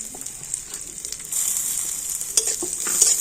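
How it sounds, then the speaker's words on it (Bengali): Almonds, cashews and raisins frying in ghee, giving a soft steady sizzle that swells louder midway, with stirring scrapes and clinks close by and no talking. "এই সমস্ত ড্রাই ফ্রুটগুলো এখন আমি ঘিয়ের মধ্যে দিয়ে দিচ্ছি"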